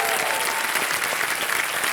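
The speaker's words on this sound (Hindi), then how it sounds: "तालियां बज जाएं इनके लिए" Studio audience at a television quiz show breaking into dense, sustained applause, loud and continuous throughout.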